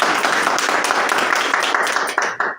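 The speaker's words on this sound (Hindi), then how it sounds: "एक जोरदार ताली इसके लिए होनी चाहिए।" Audience applause at a Hindi-language DXN marketing plan seminar, a steady wash of many hands clapping throughout, fairly loud and close, thinning toward the end.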